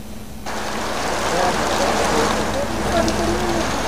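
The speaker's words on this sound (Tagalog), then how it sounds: "pabugso-bugso pa rin ang pag-ulan dito sa Dinalungan sa Aurora" Steady rain pours down with a broad hiss after a sudden onset during a typhoon in Dinalungan, Aurora, Philippines, continuous and fairly loud, with faint voices underneath.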